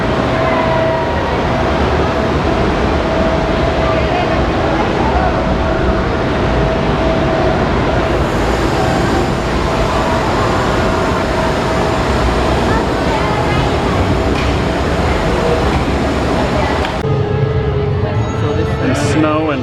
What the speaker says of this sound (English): Holy cow, the train is impressive.